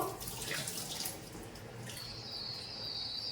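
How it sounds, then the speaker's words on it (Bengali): Lentils being washed under a running kitchen tap, a steady close gush of water splashing into a sink with a brief brighter spray partway through. "ডালটাকে আমি ভালো করে ধুয়ে নিচ্ছি"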